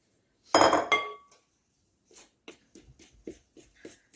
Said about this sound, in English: I will get a spatula and mix this around